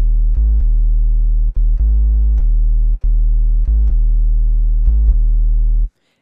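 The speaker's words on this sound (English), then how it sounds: "That's gonna give it that more greedy 808 sound." A deep, sustained distorted 808 kick synthesized in Sylenth1, gritty and overdriven, played as a series of long held notes with brief gaps and pitch changes.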